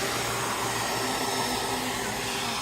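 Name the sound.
server cooling fans blowing loudly over copper heatsink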